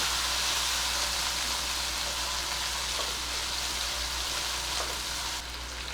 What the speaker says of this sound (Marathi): दोन टोमॅटो घेतलेले मी लहान होते तेही परतून घेऊया